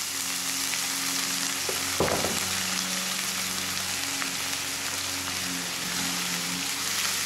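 Balsamic vinegar hits caramelized onions in a hot pan, producing a loud, continuous hiss and crackle with a brief sharp clatter early on; no voices.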